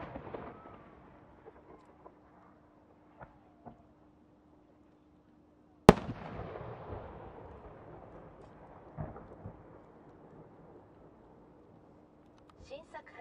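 A new Higanbana aerial firework by Oriental Kako at the Omagari winter fireworks show: after quiet launch pops, one sharp, loud burst booms and rumbles away over several seconds, followed by scattered crackles and distant pops.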